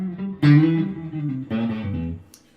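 Heavily processed electric guitar notes ring out through the amp's on-board effects, two sustained phrases with a warbling, distorted tone, close and fairly loud.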